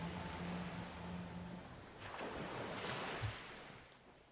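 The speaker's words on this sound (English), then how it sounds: "The rhythmic sound of waves crashing against the shore filled the air as they sat." Ocean waves wash against a beach shore in a steady, broadband roar that swells and recedes, moderately faint, with no one speaking.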